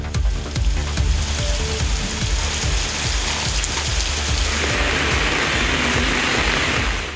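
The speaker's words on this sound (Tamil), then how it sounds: "பலத்த காற்றுடன் கனமழை கொட்டியது." Heavy rain with strong wind pours down as a dense, steady roar of hissing drops and rushing noise, loud and unbroken throughout with no voices.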